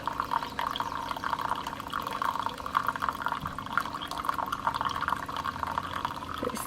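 Hot water streams steadily from a coffee maker into a cup, a continuous close trickle and pour lasting several seconds with no talk.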